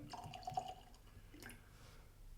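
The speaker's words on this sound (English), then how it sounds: "So first let's crack the GlenAllachie 15 open. Pour a bit out." GlenAllachie 15 Year Old Speyside single malt Scotch whisky trickles and drips from the bottle into a glass, faint and close, in a few short liquid splashes that fade into room quiet.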